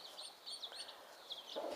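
Turkeys calling nearby at a poultry hatching setup, a series of faint, thin, high chirping notes coming in short bursts.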